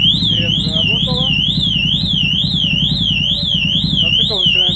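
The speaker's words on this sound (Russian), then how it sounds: "Сирена заработала." A Pandora DX-42 alarm fitted to a Yamaha XT660X motorcycle sounds its siren, a loud, close, rapidly warbling electronic wail cycling steadily over a low engine-like rumble, with no pause throughout.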